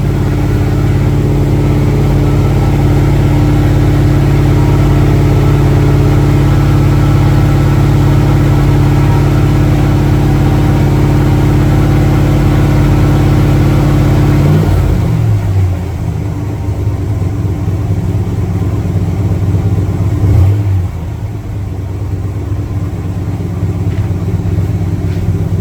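A 1966 Chevrolet Corvette Stingray V8 idles after a cold start, a loud, steady low rumble that holds evenly for about fifteen seconds, then dips and settles into a rougher, slightly quieter idle with a brief blip near twenty seconds.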